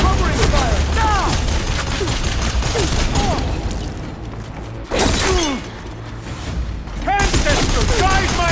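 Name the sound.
gunfire in the video game Horizon Burning Shores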